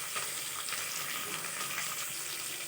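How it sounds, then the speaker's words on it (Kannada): Green chillies and onion frying in a pan give a steady, close hiss and sizzle with scattered crackles, no voices over the cooking. "ಅದ್ರ ಜೊತೆಗೆ ಈರುಳ್ಳಿನ ಸ್ವಲ್ಪ ಹಾಕೋಣ. ಇದನ್ನು ಚೆನ್ನಾಗಿ ಮಾಡಿ ಹುರ್ಕೋಬೇಕು."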